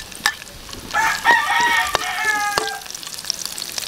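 Garlic and onion frying in hot oil for chicharon bituka humba, with a moderate sizzle and stirring, while a rooster crows clearly in the background partway through.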